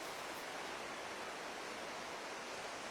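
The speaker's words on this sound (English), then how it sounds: "And you can hear the river." The Findhorn River rushing through a gorge, a dense, steady roar of flowing water heard close and loud without pause.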